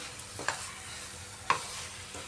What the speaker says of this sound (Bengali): এই আলু পটলটা দিয়ে মশলার সাথে ভালো করে মিক্সড করতে হবে এইভাবে